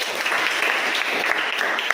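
Classroom applause for a student, a dense, even patter of many hands clapping close by, sustained without a break and with no voices.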